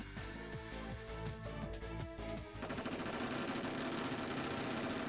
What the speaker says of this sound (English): Simultaneously, the sound of gunfire rings out.